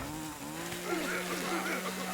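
Chainsaw revving in The Culling, a battle royale survival video game, its buzzing engine whine rising and falling in pitch throughout, steady and fairly loud with a constant low drone beneath.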